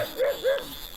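A dog gives two short, sharp barks close by, quickly one after the other, then falls quiet.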